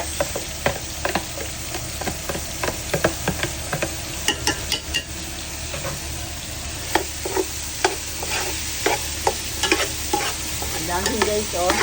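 Ginger and onion fry in a pan while a utensil clacks and scrapes repeatedly against it, irregular stirring taps over a continuous bright sizzle, close and fairly loud.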